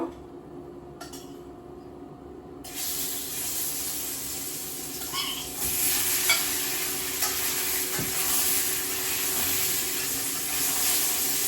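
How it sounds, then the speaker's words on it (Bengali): Shol fish frying in a pan: a quieter start, then after a few seconds a loud, continuous hissing sizzle with occasional utensil clinks, close up and with no talking. "এখন এই যে মাছটা ভেজে নিব"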